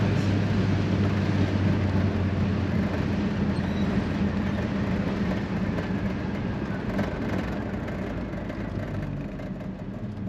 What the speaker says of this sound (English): That camera picks up a little bit of that wind noise.